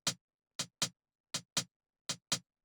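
Seven crisp hi-hat hits play a swung beat at 80 BPM with 70% swing, grouped in uneven long-short pairs separated by clean silence, dry and quiet with no other instruments.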